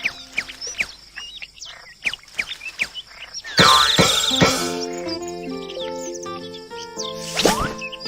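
Cartoonish bird chirps and tweets at the crops in a children's farm video game, repeated short calls over quiet, followed by bright musical game tones and a boing-like effect.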